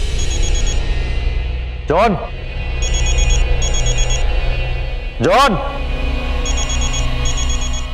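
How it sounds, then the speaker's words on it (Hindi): A landline telephone rings in short electronic bursts, repeating at a steady rhythm through the clip, heard beneath a steady background drone. Two people speak over it. "अजीब लोग हैं, मोबाइल के जमाने में लैंडलाइन पे कॉल करते हैं।"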